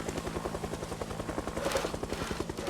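A helicopter in the Project Zomboid video game, its rotor beating in a steady, rapid thump. The sound is moderately distant and fairly quiet, and no speech is heard.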